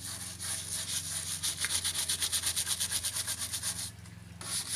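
A brush scrubs oil and grime off a car engine in quick, regular back-and-forth strokes, close and moderately loud, speeding into a steady rhythm before a short pause and a resumption.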